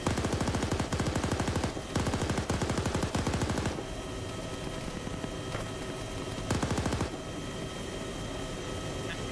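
A machine gun in a video game fires rapid bursts at a Huey helicopter, three long rattling volleys and then a shorter one, with the helicopter's steady rotor drone filling the gaps between them.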